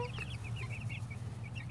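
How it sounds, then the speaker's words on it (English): Three-week-old Ameraucana chicks cluck and peep in a steady chorus of short chirps, close by and fairly loud, with no talking over them. "It's my Americana chicks."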